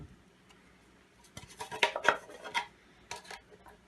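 Short scraping and rasping strokes of a tool cutting sheet metal for a mini rocket stove, a burst of several close, fairly loud cuts after a quiet start, then a brief final pass.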